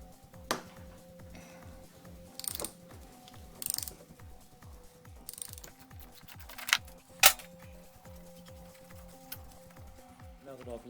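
A tool works on the fork top cap of a 2007–2017 Honda CBR600RR during an Ohlins 30mm cartridge install, giving rapid repeated ratcheting clicks with a few sharper metallic knocks, close and fairly quiet.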